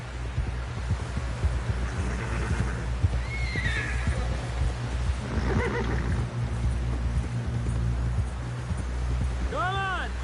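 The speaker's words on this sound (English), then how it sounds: "Someone help John down off this horse." A horse whinnies amid steady hoofbeats and low rumbling in the video game Red Dead Redemption 2, with a brief voice now and then and a rising-falling neigh near the end.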